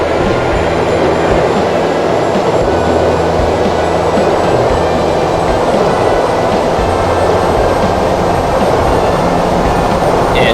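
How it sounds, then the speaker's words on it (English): Jump jet lifting off in the Fighters Anthology flight game, with a loud, steady roar of jet engine noise held at an even level throughout, alone. "set jump jets to 40 degrees and initiate takeoff"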